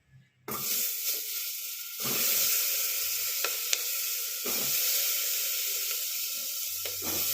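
Quartered onions hit hot oil in a pot for chicken stew, bursting into a loud, steady sizzle after a brief quiet start, with a few utensil clinks over the hiss, close up and without talk.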